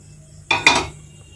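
Metal wok, or kadai, set down on a stove makes two quick clanking knocks close up, one right after the other, in a quiet kitchen.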